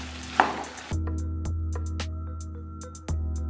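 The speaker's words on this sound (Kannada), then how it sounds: "ತೆಂಗಿನ ತುರಿ ಹಾಕಿ ಚೆನ್ನಾಗಿ ಮಿಕ್ಸ್ ಆಗಬೇಕು." Grated coconut is stirred into a stir-fry of salted jackfruit bulbs, with a few scraping strokes and knocks of a utensil in the pan over a low steady hum and no talking.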